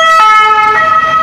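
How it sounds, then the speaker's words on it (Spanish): An ambulance siren passes close by, loud and continuous with two swelling peaks in its wail, alone without talk. "Acaba de pasar una ambulancia"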